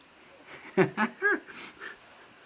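A dog makes a quick series of three or four whiny yelps and snuffly breaths somewhere in the room, moderately loud and over within about a second.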